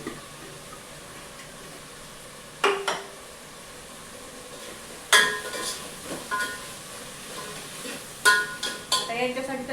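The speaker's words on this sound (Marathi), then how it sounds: "कांदा आणि टोमॅटो चांगलं मऊ शिजेपर्यंत आता परतून घेऊ." Onion, tomato and ginger-garlic paste sauté in a pan under a low sizzle, broken by a few sharp clanks and scrapes of a spatula against the metal, close and intermittent.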